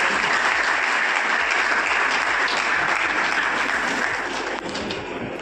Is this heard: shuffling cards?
no